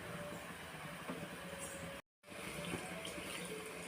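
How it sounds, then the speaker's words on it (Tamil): Tamarind water pours steadily into a cooking dish, a continuous close splashing stream that breaks off briefly in the middle and then resumes. "புளி தண்ணி ஊற்றுறாங்க"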